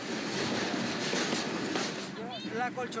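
A crowded passenger train picks up speed after leaving a station, a steady rumbling rail roar throughout with faint squeals near the end.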